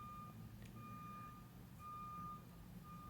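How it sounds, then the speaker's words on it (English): Outside, a construction truck backs up with faint, regularly repeating reversing beeps over a low rumble of engine and background noise. "I don't know if you can hear the construction truck outside."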